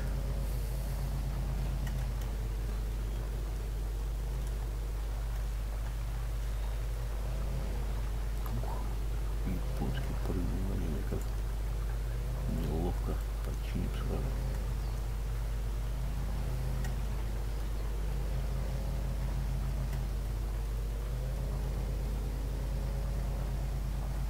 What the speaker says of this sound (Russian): Мотор тащит нормально, звук у него свой, ребята, немножко измененный.